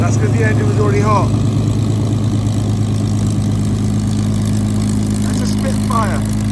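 A Spitfire's propeller engine idles steadily with a deep, constant drone, while people talk over it now and then.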